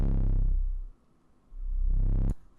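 A deep synthetic 808 bass tone in FL Studio with ping-pong looping fades out, then swells back in reversed, ending abruptly with a short click; alone and fairly quiet.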